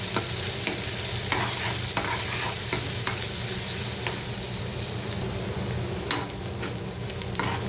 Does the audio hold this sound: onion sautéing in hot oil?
yes